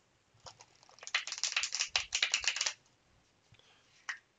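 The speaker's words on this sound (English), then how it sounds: "It does riffle shuffle nicely." Tarot cards being riffle shuffled by hand, a fast burst of crisp fluttering card slaps lasting about two seconds, followed by a short bridge and a single soft riffle near the end; close and clear with no talking.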